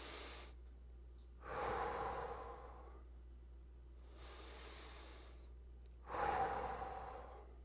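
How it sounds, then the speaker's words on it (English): Slow, deep human breaths in through the nose and out through the mouth during a guided relaxation exercise, two long airy breath cycles separated by quiet pauses, close and soft. "Breathe in through your nose and out through your mouth."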